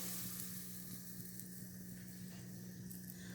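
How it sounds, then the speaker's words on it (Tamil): Asafoetida powder sizzling in hot oil for a mango pickle, a continuous crackling fry hiss heard close and fairly quiet, without talking. "இப்போ ஸ்லோ பண்ணிவிட்டு பெருங்காயத்தூள் போட்டுட்டு உடனே எடுத்து இதில் கொட்டிடலாம்."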